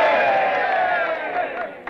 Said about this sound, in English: How about it, boys? A cheer for the little lady.